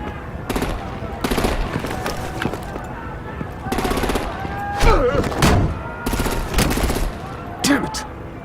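Rapid bursts of machine-gun fire and heavier artillery blasts crackle in repeated volleys during a Batman: The Enemy Within video game firefight, with shouted voices mixed in.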